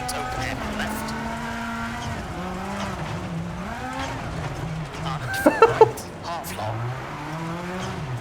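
An engine note climbs and falls in pitch as the car accelerates, with a few brief sharp clicks partway through and a steady rumble underneath.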